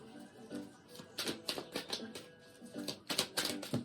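Tarot cards are shuffled by hand in quick bursts of crisp riffling clicks, pausing briefly between rounds, close and alone.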